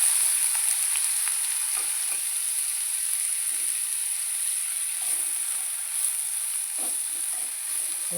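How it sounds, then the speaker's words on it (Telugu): Sliced onions fry in hot oil for a chicken curry, a steady loud sizzle and hiss running throughout with faint soft stirring knocks beneath it. "ఇది ఆయిల్ వేడెక్కిందండి, ఉల్లిపాయ ముక్కలు వేసేసుకున్నాం."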